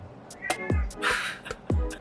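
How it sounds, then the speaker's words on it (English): A domestic cat meowing nearby, two short rising-falling meows about a second apart, mixed with soft clicks and a brief hissy rustle, fairly close and clear with no talk. "My cat's meowing. What are you meowing about?"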